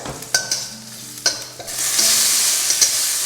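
Vegetables with turmeric and dried red chilies in hot oil in a pan: a few sharp utensil scrapes and knocks, then a loud, steady sizzle swells and continues close up.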